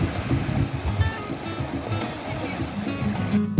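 Ocean waves roll in at R.K. Beach in Visakhapatnam, a continuous rumbling surf wash with a breezy, windy texture, heard fairly loud throughout.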